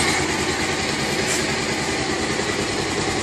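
Bajaj Pulsar 220 motorcycle engine running steadily at idle after an oil flush service, a close, constant buzzing drone with no talk over it.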